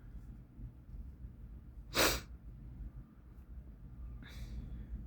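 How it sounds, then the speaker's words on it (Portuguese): A single short, sharp sneeze bursts out at close range against quiet background noise, followed later by a softer breathy sniff. "acho que eu vou espirrar"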